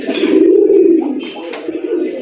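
A pigeon of red fancy breeds at a market stall gives a loud, close cooing call, a sustained low throaty roll with light background chatter.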